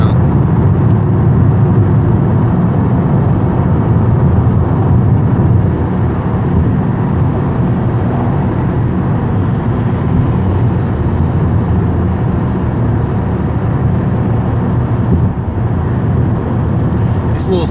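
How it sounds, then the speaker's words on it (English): Car driving on a freeway heading into Seattle, with a steady, loud road and engine drone and continuous tire rumble filling the whole stretch, no breaks. "So this is what the drive into Seattle is like."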